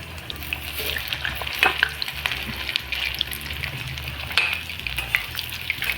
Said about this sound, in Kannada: ಇದನ್ನ ಒಂದು 2 to 3 ಮಿನಿಟ್ಸ್ ಫ್ರೈ ಮಾಡ್ಕೊಳ್ಳಿ ಕ್ಲೀನಾಗಿ